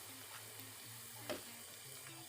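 Banana snacks frying in hot oil, a quiet steady sizzle with faint crackles and a brief louder pop near the middle, heard alone without talk.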